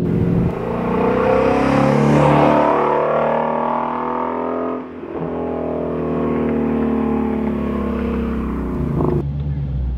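A Shelby GT350 Track Pack Mustang engine revs loudly and steadily up close, its rich harmonic roar rising and holding, with a brief dip midway before climbing again.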